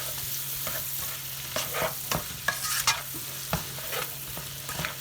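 Green beans with garlic and spices being stirred in a hot pan, a quiet sizzle under a series of sharp scraping and tapping strokes of the utensil, close and unhurried, with no talk.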